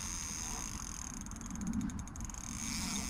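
A carp fishing reel clicks and whirs as line runs off it, a quiet, steady mechanical ratcheting with a quick burst of rapid clicks in the middle.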